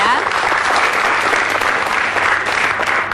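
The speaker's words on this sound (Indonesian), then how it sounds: "Tepuk tangan dulu dong ya." Loud, sustained applause from an audience at an open dialogue event on tour and travel entrepreneurship, many hands clapping evenly and steadily throughout.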